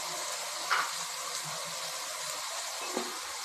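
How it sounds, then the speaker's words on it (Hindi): Whole garam masala spices fry in hot oil, giving a steady, soft, close sizzle with a couple of faint pops and stirring touches. "साबुत गरम मसाला ऐड करेंगे जो कि साथ ही फ्राई हो जाएगा"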